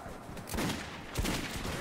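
Bursts of gunfire from a recoil-free gun in Metro 2033, two sharp clusters of shots about half a second apart, close and loud in a dense, noisy game mix.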